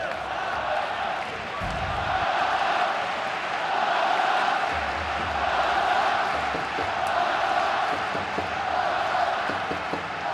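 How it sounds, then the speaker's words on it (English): Vast football stadium crowd at Camp Nou during an FC Barcelona vs Real Madrid LaLiga match, a sustained broad roar of cheering and chanting that swells and holds throughout, with a commentator talking over it. "The Camp Nou faithful trying to cheer their players home."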